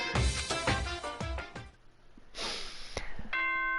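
A school announcement chime of a few ringing tones sounds near the end, following a stretch of other sounds, with clear sustained pitches fading out.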